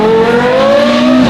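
A Porsche Carrera GT fitted with an Inconel F1 exhaust revs hard and close. It gives one loud, rising, sharply tonal wail that climbs in pitch over a second and then cuts off.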